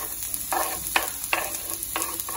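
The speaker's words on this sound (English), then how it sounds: "We're gonna start cooking off the onions first." Onions frying in a pan over medium heat, with a steady sizzle and four or five distinct stirring scrapes at a regular pace, close and fairly quiet, without speech.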